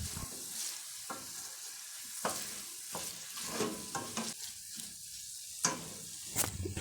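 Onions sizzling in oil in a pot for a vegan pumpkin and ginger soup: a quiet, steady frying hiss broken by a few soft stirring scrapes and clicks, with no voices.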